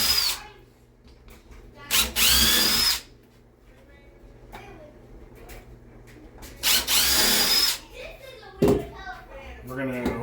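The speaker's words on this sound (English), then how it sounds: "We're going to pre-drill again." A power drill whines in two bursts of about a second each, pre-drilling screw holes in wood for basement stair risers, with quiet knocks and handling sounds between and a short clunk near the end.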